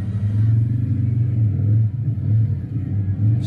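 A motorcycle engine rumbles and revs steadily at low pitch while working the clutch through a tight section of a riding course, loud and close with slight dips in throttle.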